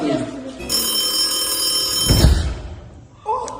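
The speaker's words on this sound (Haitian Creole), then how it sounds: "C'est téléphone moi qui sonne." A mobile phone rings with a sustained electronic tone lasting a couple of seconds and then cuts off, followed by a thump and a short sound. There is some talk around it.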